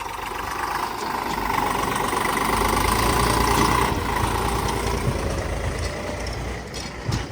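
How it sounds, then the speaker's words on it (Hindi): An Eicher 485 tractor engine runs steadily while digging a pond, a continuous loud diesel drone with a knocking rumble, close and unbroken for several seconds, with no voices. "आज हमारा आइसर 485 चल रहा है।"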